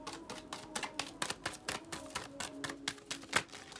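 Tarot cards drop and slap onto a reading board in a quick run of light, crisp taps and flicks, quiet and close, with no talking.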